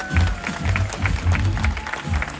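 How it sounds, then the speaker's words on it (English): Cruise ship audience aboard Ovation of the Seas applauding the technical team, a dense, steady patter of many hands clapping in a rhythmic burst, fairly close and loud, with some voices mixed in. "Would you also please give a nice round of applause for our whole technical team?"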